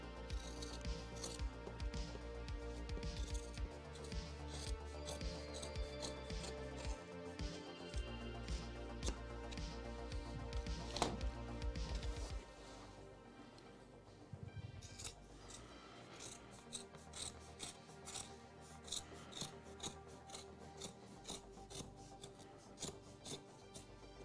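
Scissors snip repeatedly while trimming a handmade rug, with close, crisp cuts in an uneven rhythm, interspersed with rubbing and rustling of the yarn.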